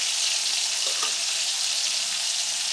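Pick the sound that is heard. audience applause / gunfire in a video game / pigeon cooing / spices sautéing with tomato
spices sautéing with tomato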